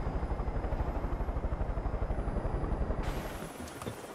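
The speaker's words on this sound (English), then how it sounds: "I do like how the sound gets all muted when you're in a helicopter" Helicopter interior in the video game Far Cry 5, heard muted: a steady, fast rotor thump pulses under a dull engine drone with a high whine, then the sound shifts and thins near the end.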